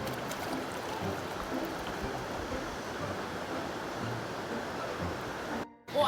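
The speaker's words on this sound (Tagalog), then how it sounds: "O ayan, Sophia, nandito na tayo sa ilog" Steady broadband rush of flowing water, continuous and close, like a river running over stones, with a brief dropout near the end.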